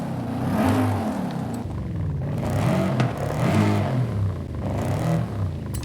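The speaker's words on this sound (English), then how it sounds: "just take a listen to this, a little bit of sort of exhaust note change between the two upgrades" A Lexus LC500 in Forza Horizon 5 revs repeatedly, its upgraded exhaust note rising and falling in several loud, close surges with a rumbling undertone throughout.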